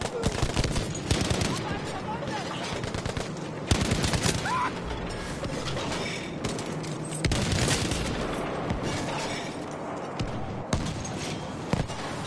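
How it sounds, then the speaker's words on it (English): Battlefield V combat gunfire, a continuous mix of rapid rifle and machine-gun shots with sharper nearby cracks and occasional booms, dense and loud throughout, with a voice briefly heard amid the shooting. "Who's firing at me?"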